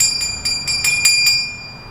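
A doorbell rings in a quick run of about seven bright, ringing strikes, evenly spaced, then fades into a lingering tone with no voices.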